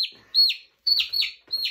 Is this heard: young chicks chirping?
yes